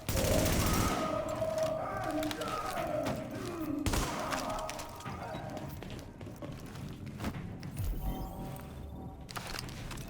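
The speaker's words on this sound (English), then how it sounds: "I shouldn't be shooting a shotgun at this range." Shotgun fire in The Division: several heavy booming blasts amid a chaotic firefight with thuds and other gunfire, loud and close, with a player talking over the action.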